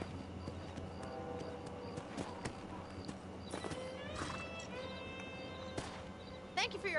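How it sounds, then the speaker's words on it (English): Horse hooves clip-clop in the Western video game Red Dead Redemption, a rhythmic stream of hoofbeats mixed with game ambience, a neigh and a train-like rumble, with a voice talking over it. "Oh, I have to hitch my horse."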